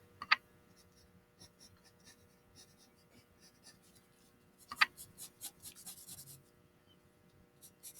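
A pencil sketches figure proportions on paper in quiet, scratchy strokes, close and soft, with two sharper taps and a denser burst of rapid strokes near the end.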